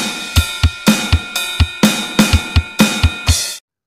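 A drum kit plays the pattern for a song at standard tempo: steady kick thumps under snare and ride cymbal hits, ending on a crash before stopping sharply.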